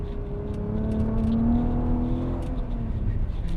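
Volkswagen Golf R32 tuned to 550 hp, engine pulling under throttle on a narrow country B road, a steady rising drone with smooth tonal harmonics heard from inside the car, fairly loud and unbroken.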